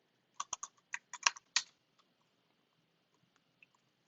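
Someone typing a password on a computer keyboard, a quick burst of about eight sharp key clicks in the first two seconds followed by a couple of isolated taps, close and quiet in an otherwise silent room.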